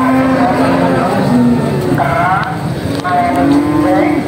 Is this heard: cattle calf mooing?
yes